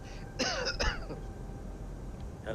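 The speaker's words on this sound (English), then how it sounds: "You know why you coughing so much?" A single throaty cough or throat-clear, brief and fairly close, followed by quiet background, during a group flight session in the X-Plane 12 flight simulator.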